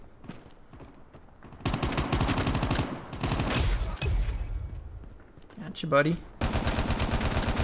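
PDW submachine gun fire in Call of Duty Mobile rattles in loud, sustained automatic bursts with short pauses between them, while someone speaks briefly over the shooting.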